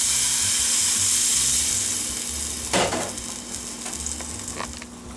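Steady bubbling sizzle from a salt cod (morue) sauce boiling in a pan on the stove after water is added, a continuous hiss with a brief louder burst partway through, no talking.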